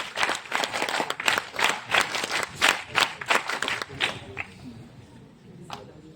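Steady applause from a crowd, many hands clapping together, then thinning out and fading to a few scattered claps near the end.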